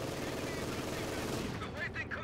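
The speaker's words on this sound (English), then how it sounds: "MG42 getting a suppression off on the Grenadiers on the left-hand side" MG42 machine gun fire rattles in Company of Heroes 2 amid dense battle noise, with continuous rapid bursts blending into other gunfire and someone talking over it.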